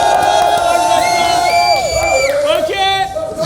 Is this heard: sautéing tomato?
no